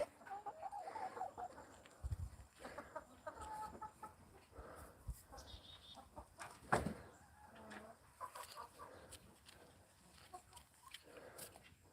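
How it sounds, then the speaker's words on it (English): Chickens on a farm cluck steadily at close range, with a few sharper louder squawks scattered through the twelve seconds and no talk. "All right, chickens, here."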